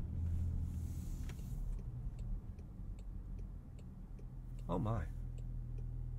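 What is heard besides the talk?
2024 Range Rover Velar turn signal ticking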